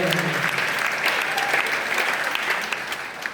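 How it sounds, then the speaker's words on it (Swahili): An audience gives the parents a round of applause at a school gathering, with dense, even clapping from many hands that holds steady throughout and stays close and loud. "Tuwapigie makofi. Let us clap for them."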